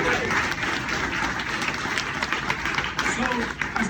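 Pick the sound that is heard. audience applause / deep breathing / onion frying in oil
audience applause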